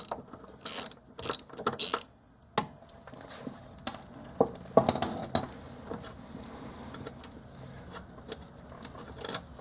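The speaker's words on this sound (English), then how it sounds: "a 19mm socket on the front, remove the bolt from the top of the shock absorber" Ratchet with a 19mm socket turning the top shock absorber bolt on a 1972 Volkswagen Beetle: bursts of close, rapid metallic clicking in the first two seconds, then scattered clinks and tool handling.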